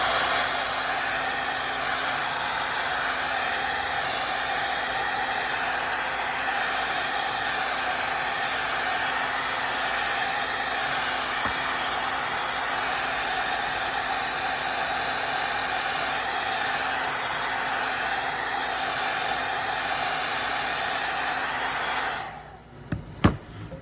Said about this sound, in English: So I'm gonna hit it with my blow dryer real quick.